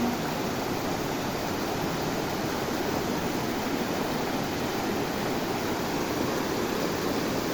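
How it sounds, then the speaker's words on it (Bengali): A waterfall in the Western Ghats roars as a steady, dense rush of falling water, loud and unbroken, with no voices over it. "এটা হচ্ছে আমাদের ঝর্ণা"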